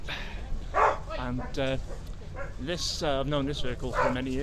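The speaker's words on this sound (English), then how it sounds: "sorry about the dog." A dog at a Land Rover show gives several short yips and whimpering barks close by, mixed in with someone talking.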